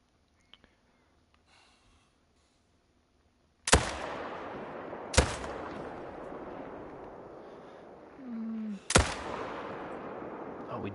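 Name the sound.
hunting rifle gunshot in video game theHunter: Call of the Wild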